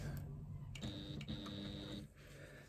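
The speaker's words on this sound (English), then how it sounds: "I'm sewing on a Juki TL98P sewing machine" A Juki TL98P straight-stitch sewing machine runs in a steady whirring burst with a high mechanical whine, then slows and stops near the end.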